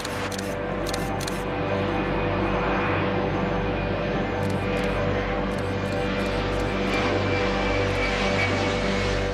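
A large airliner takes off with a loud, continuous engine roar. Rapid camera shutter bursts from plane spotters click at the start and again midway through.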